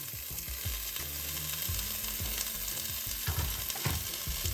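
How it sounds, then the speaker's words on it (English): Green chillies, mint and coriander leaves sautéing in a pan over a low flame for a boneless chicken biryani masala, a steady close sizzle with soft stirring and scraping bursts throughout, no talk. "Saute it for a minute on low flame."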